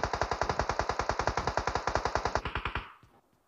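Automatic gunfire in the mobile shooter PUBG Mobile, a rapid burst of about thirty evenly spaced loud shots lasting under three seconds, then fading out, with no talking.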